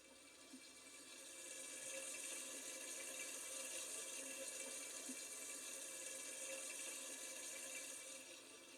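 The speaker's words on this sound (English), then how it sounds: "wet them with clean running water, warm if available, and apply soap." Warm water runs steadily from a faucet during hand washing with soap, a soft continuous hiss that stays faint and even from start to finish.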